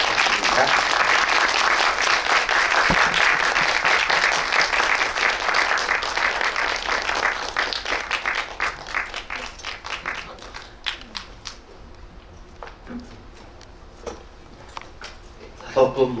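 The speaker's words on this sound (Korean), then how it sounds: "뜨거운 박수 부탁드립니다" Sustained applause from a large audience at a film premiere talk event, loud and dense at first, then thinning into scattered claps before fading out.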